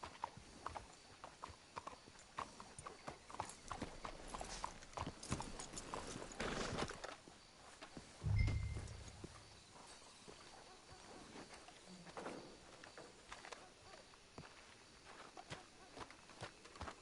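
Horses in the Red Dead Redemption 2 game clop along with irregular hoofbeats, joined by a short snort or whinny midway and occasional voices, at moderate distance.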